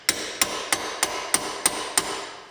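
Seven sharp, evenly spaced hammer blows ring out close and alone as a spider joint is driven onto a Ford Mondeo Mk5 driveshaft, each strike a bright metallic crack with a short ring.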